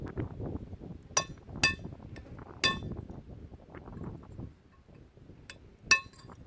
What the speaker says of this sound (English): put my chisel in there like that and break it open